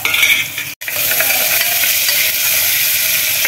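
Steady, loud sizzling of onion and asafoetida frying in hot oil for a tempering, a continuous crackling hiss with a brief drop-out near the start.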